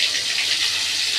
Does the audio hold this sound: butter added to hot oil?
yes